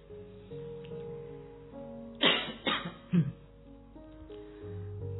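A few sharp, exaggerated coughs in quick succession, close and loud, standing out over a quiet steady background with tonal hum.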